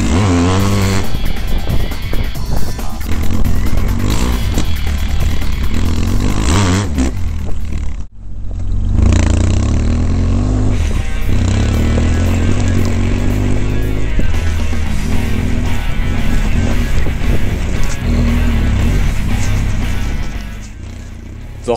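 BMW F 800 GS motorcycle ridden hard off-road on a rally special stage near Agadir: a continuous loud engine roar with revving and gear changes, a brief dip around the middle, and rattling and scraping over rough ground.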